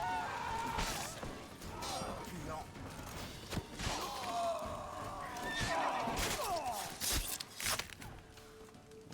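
A horse in The Witcher 3, in Skellige, lets out loud whinnying neighs several times over clattering hooves and game noise, with no talk.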